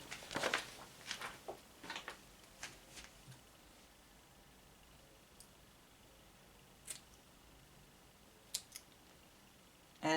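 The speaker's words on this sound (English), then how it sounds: "I'm going to trim it now with the scissors." Scissors trimming loose strands from brown goddess braids, a series of quiet, crisp snips clustered early and then scattered sparsely through low background hiss, fairly faint and close.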